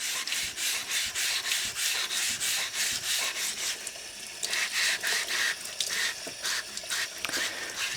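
A clean sponge scrubs the inside of a Berkey water filter's metal housing in steady, continuous rubbing strokes, close and moderately loud, with no talk.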